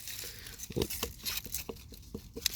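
Ripe watermelons pulled from a garden plot, stems snapping and leaves and dry vines rustling in a series of short, close crackling and tearing bursts, with no speech.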